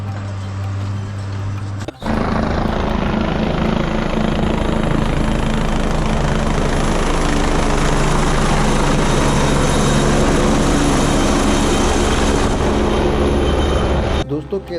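A loud, steady helicopter rotor roar at the Kedarnath helipad holds for most of the stretch, close and continuous, with a brief dip near the start.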